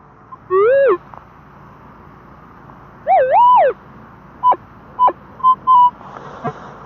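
Warbling electronic tones from a metal detector over mud signal a coin: two longer wavering beeps, then several short sharp blips, against quiet outdoor background.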